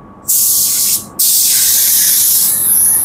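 Spray gun coating the bed of a Toyota Tacoma pickup, a loud close hiss in two bursts with a brief pause between them, then one long steady spray.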